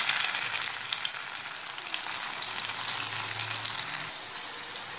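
Potato slices fry in a pan until one side turns crisp, a fish-fry-style potato dish. A steady, loud, close sizzle hisses without pause for the whole stretch, and no one speaks.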